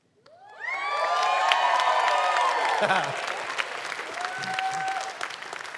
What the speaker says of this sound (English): You guys were a little late clapping because you don't usually cheer for wedding announcements.